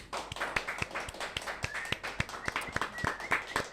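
Sharp hand claps ring out repeatedly in an uneven rhythm, like a small group applauding nearby, with a faint voice underneath.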